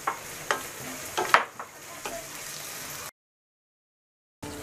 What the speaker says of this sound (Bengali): পেঁয়াজটাকে আমি একটু ভেজে নিচ্ছি।